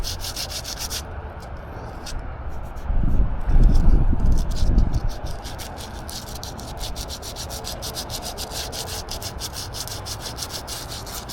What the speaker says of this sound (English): The reason why you're sanding it is to have a smooth place where to attach